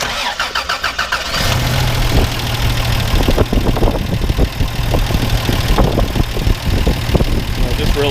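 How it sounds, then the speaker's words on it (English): A 1989 Toyota FJ62 Land Cruiser engine cranks for about a second, catches loudly, and settles into a steady, fairly smooth idle close to the microphone, with a person talking over it. "Go ahead and start it up. It actually runs really nice."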